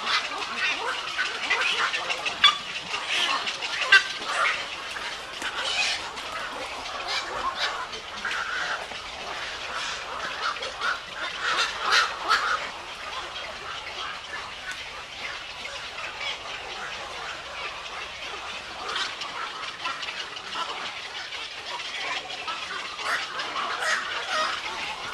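Birds at Baras Bird Sanctuary give a steady, fairly faint chorus of calls and squawks, with duck-like quacks among them, continuing without a break in the open air.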